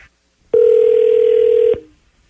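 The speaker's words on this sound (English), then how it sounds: "Roy, dial him up" A single steady telephone tone sounds for just over a second, loud and unbroken, then cuts off abruptly in an otherwise quiet room.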